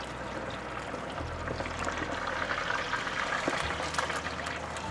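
Chicken wings being stirred in hot deep fryer oil, a continuous sizzling, bubbling hiss with a low rumble that shifts as the wings are moved, steady and without talk.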